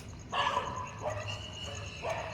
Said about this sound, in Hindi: अभी 5:05 हो चुकी है और सुबह से कुत्ते लड़ने लगे हैं